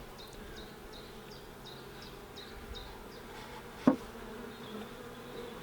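A swarm of about 20,000 honey bees around a hive gives a faint, steady low hum, with a run of short high chirps early on and a single sharp knock near the end.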